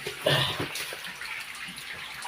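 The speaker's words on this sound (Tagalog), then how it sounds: "Takas ng tubig." Water escaping from a collapsed passage at a treasure-hunting dig site pours in a continuous rushing, splashing gush, close by, with a slightly stronger surge at the start.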